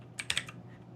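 A computer keyboard clatters in a quick burst of three or four loud key presses within a second, close and crisp, with no speech.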